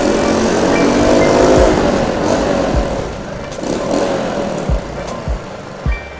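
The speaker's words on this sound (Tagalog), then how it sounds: "Sino kaya mga nakaka-enjoy ng mga tunog ng motor nila kapag nasa basement?" A Kawasaki motorcycle engine rumbles loud and close inside a basement, its sound echoing off the walls, with a few dull thumps near the end.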